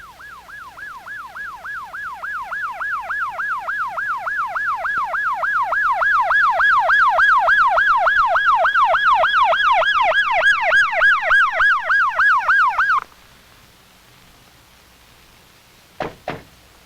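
An ambulance siren wails loud and close, its rising and falling tone cycling rapidly for several seconds before cutting off, followed by two sharp knocks.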